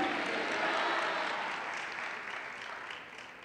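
A church congregation applauds during a Christian worship show, a steady wash of clapping at moderate distance that slowly fades in level over a few seconds.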